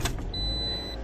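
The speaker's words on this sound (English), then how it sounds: "the third time we're going to start the car" A 2009-2013 Toyota Corolla with a rough idle and misfire starts up, a short mechanical burst settling into a steady low engine rumble close by, over about one second.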